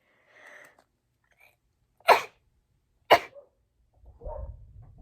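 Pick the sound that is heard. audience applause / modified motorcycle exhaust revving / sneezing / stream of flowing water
sneezing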